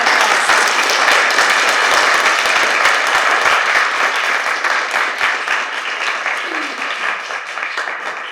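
A lecture audience gives sustained, dense applause that fills the room loudly at first and slowly thins out over several seconds.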